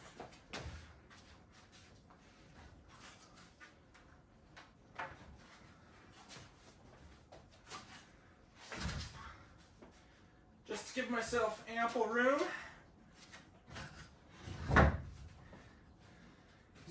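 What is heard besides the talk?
wooden stud being pulled out of a wall frame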